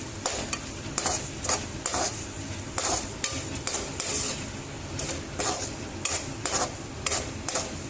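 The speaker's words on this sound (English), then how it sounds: "Keep sauteing it" Onions sauté with asafoetida in a hot pan, giving a steady sizzle under brisk, rhythmic stirring and scraping of a utensil against the pan. The sound is close and continuous, and no one speaks.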